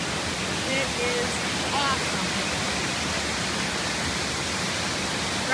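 Waterfall at the base of Lucifer Falls in a gorge near Ithaca, New York, a steady, dense roar of falling water heard up close, with faint voices barely breaking through.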